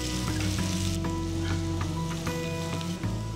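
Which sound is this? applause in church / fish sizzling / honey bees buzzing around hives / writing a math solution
fish sizzling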